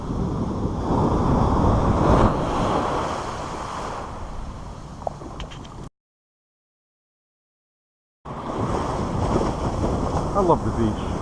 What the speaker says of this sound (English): I love the beach.